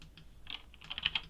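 Keys clicking on a computer keyboard while working in a Python notebook, a handful of light, quick taps in short bursts, close and fairly quiet, with no voice.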